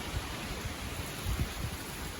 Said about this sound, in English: Looks like we got some rain coming down.